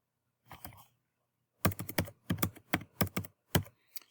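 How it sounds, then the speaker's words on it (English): Quick clusters of sharp keyboard clicks, a brief burst first, then a steady run of typing with short pauses, close and clear. "Going through there and typing"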